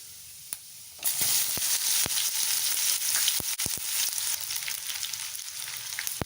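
Chopped large onion dropped into hot oil in a pan for chayote poriyal: a sudden loud burst of sizzling after a quiet second, then steady frying with sharp crackles and pops, no voices.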